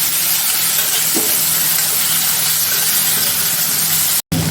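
Loud, steady sizzle of jackfruit seeds frying in hot tempering oil, a continuous crackling hiss that cuts out briefly near the end.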